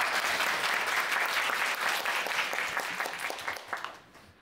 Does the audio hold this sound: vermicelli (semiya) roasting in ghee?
no